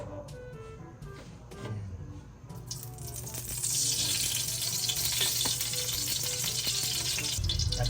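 Chicken for kinamatisang manok fries in hot cooking oil in a pan, a steady close sizzle that swells louder partway through, with occasional clatter and stirring.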